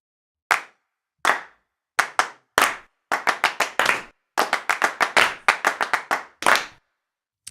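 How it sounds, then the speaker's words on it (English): Group clap samples from the Clap Pack Deluxe library: a crowd of hands striking together in about twenty sharp claps, first spaced apart and then in quick clustered runs, loud, close and dry with no talking. "Group claps."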